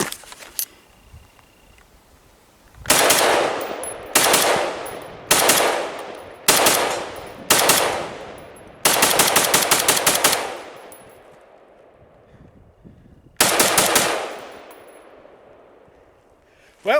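A Steyr AUG rifle fitted with Corvus Defensio upgraded parts is fired outdoors in the wilderness, giving loud, sharp shots in single reports and quick strings, with ringing echoes between them.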